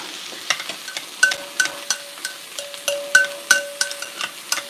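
Ground pepper being stirred into mushy cooked potatoes for Irish colcannon, a series of irregular clinks and scrapes of a utensil against the pot, close and moderately quiet, with a faint steady tone running beneath.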